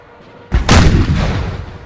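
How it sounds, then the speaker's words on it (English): Canister shot cannon fire in the Napoleon Total War battle game, a sudden loud boom followed by a second heavier blast that rolls into a long, rumbling decay. "I've got this canister just rolling in upon them."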